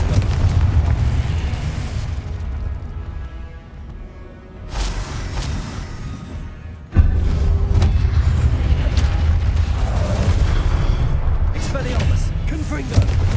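Repeated Confringo blasting-spell explosions in the Hogwarts Legacy video game: heavy booming bursts over a continuous rumbling game soundtrack, with a sharp loud blast midway followed by sustained roaring impacts.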